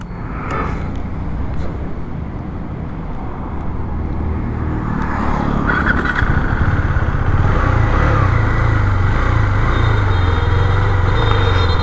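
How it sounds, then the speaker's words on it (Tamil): A 2023 BS6 KTM Duke 390 starting up and running, the engine note building into a steady, loud, close idle rumble after a brief start. "நல்லா தான் வண்டி ஸ்டார்ட் ஆகிட்டு"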